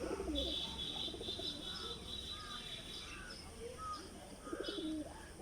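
A restless pigeon cooing softly up close, with scattered chirps and faint rustling against a quiet indoor background.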